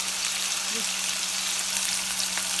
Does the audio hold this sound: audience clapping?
no